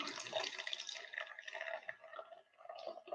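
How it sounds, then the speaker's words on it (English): Beer poured from a can makes a steady, close fizzing and splashing stream of liquid that runs for a few seconds with no talk. "Listen to that delicious beer."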